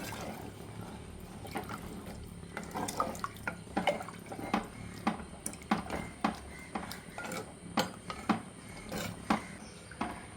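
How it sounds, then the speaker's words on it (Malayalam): Tamarind water is poured into a pot of rasam and stirred, with liquid splashes and a string of sharp clinks and taps against the vessel. It is close and fairly soft, with no talking. "ഇനി ഇതിലേക്ക് ചേർക്കേണ്ടത് പുളിവെള്ളമാണ്"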